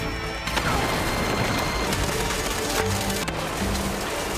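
A bomb explodes in an action film, a loud crashing blast with debris rumble filling the scene, followed by sustained dense noise and sharp impacts.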